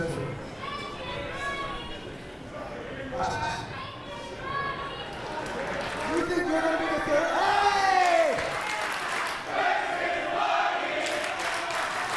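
A wrestling crowd at an independent show cheers and shouts loudly, chants and yells swelling toward the middle, mixed with nearby voices talking throughout.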